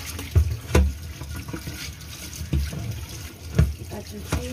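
A nonstick frying pan being scrubbed with a soft sponge under a running kitchen tap, steady water flow with irregular clunks and swishes of the pan close by.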